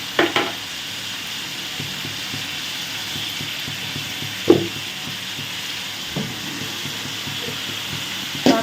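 Tomatoes frying with salt in a pan for Tamil kara kuzhambu, an even, moderate sizzle punctuated by a few sharp spoon knocks and scrapes against the vessel.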